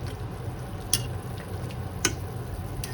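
Duck stew with ginger simmering in a pot, a continuous soft bubbling and sizzling hiss close by, with a couple of faint clinks and no voices.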